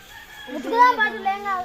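A village rooster crows one drawn-out, wavering call that swells and holds for more than a second, loud and close, with no other sound beside it.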